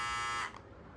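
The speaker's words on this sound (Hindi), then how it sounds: "ये रहा भाई अपना ट्रिमर" A battery-powered electric trimmer buzzes loudly with a steady harmonic whine for about half a second, then cuts off, leaving faint room noise.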